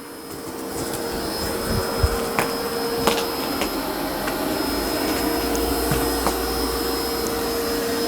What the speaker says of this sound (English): it boosted suction and it's doing a vacuum only